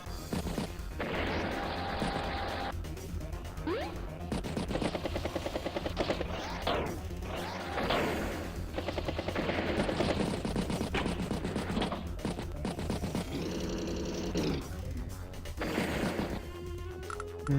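Battle units in Advance Wars by Web trade attacks, infantry, mechs, tanks and a battlecopter, with repeated bursts of gunfire and mechanical rattles in several waves over a continuous game backdrop.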